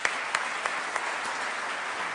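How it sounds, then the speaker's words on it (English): An audience at an enterprise software debate claps steadily in a dense, even wash of applause, moderately distant, with a few sharper claps standing out and no voices. "Let's give them another round of applause, please."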